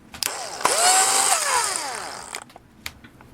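A large drill bit spins down through the coupler box hole of a Varney model train car, giving a brief loud whirring grind with a rising and falling pitch before tapering off into a few small clicks.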